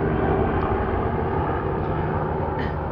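A helicopter flies overhead, producing a loud, steady, broadband engine and rotor drone that holds constant for the whole stretch with no talking.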